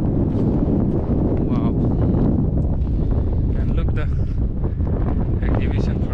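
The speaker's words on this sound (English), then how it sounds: "It's very windy." Strong wind at the Al Thakira Nature Preserve near the mangroves in Doha, Qatar, buffets the microphone in a loud, continuous rush with gusty swells, while a person briefly exclaims.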